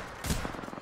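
A brief burst of gunfire in Apex Legends, one sharp loud shot followed by a quick rattling string of fainter rounds.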